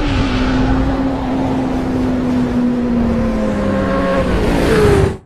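Suzuki Hayabusa motorcycle pulling away at sunset, a loud, close engine holding a steady tone that slowly falls, then rises as it shifts and accelerates before cutting off abruptly at the end, with no talking.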